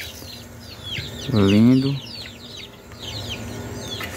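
Chickens cluck on a small farm, with one loud drawn-out call standing out in the middle amid steady bird chatter, and a person briefly speaks.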